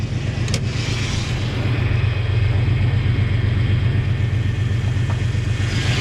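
A 1995 Toyota 4Runner engine with 213,000 miles runs in a steady, moderately loud low rumble, with a faint click early on and no talk.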